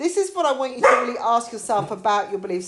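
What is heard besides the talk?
dog barking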